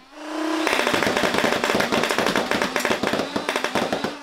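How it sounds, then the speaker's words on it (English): A fully automatic Nerf Perses foam blaster winds up with a brief motor whine, then fires a fast, even burst of about eight sharp thuds per second, loud and close. "The Perses is fully automatic and has the same insane rate of fire as the Prometheus."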